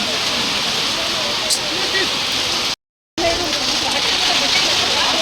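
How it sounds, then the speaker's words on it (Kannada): Heavy rain pours steadily outdoors near a river, a dense, loud, continuous wash of water with a brief dropout midway. "ತುಂಬ ಜಾಸ್ತಿನೇ ಆಗ್ಬಿಡ್ತು ಮಳೆ"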